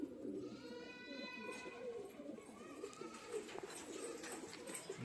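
Pigeons of a fancier's crossbred flock cooing softly in steady low rolls, faint and close, with no talk over them.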